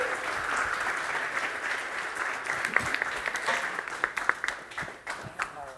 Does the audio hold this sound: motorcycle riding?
no